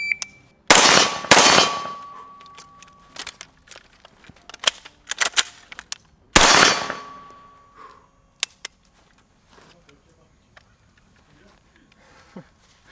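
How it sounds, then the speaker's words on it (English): Reloading an airsoft Evo replica gun: two loud sharp metallic clacks a few seconds apart, each ringing briefly, followed by scattered lighter clicks and handling taps. "I'm gonna show you how to reload the Evo the proper way."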